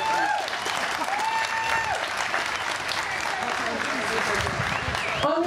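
A large audience applauds at a live tribute concert, with dense, sustained clapping and a few scattered whoops filling the whole stretch at a steady, loud level.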